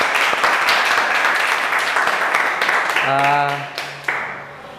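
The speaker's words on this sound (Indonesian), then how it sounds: "Oke, tepuk tangan kelompok 2." Clapping for a student group in a teaching session is heard as a dense roomful of hands, fading toward the end while a voice speaks over it.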